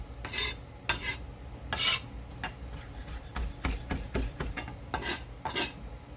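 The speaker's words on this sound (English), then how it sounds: "Chop it up very finely like that." A knife finely chops food on a board for a linguine dish, with a close, irregular run of short scraping strokes and knocks. No one speaks.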